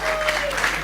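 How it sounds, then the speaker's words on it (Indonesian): Brief burst of audience applause at an Indonesian business talk event, dense clapping from a crowd with a faint tonal hum running underneath. "Tepuk tangan."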